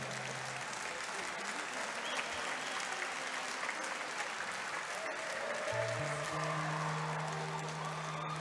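Applause rolls on for the athletes at a swimming podium ceremony, steady clapping from a crowd that keeps going throughout with a light murmur underneath.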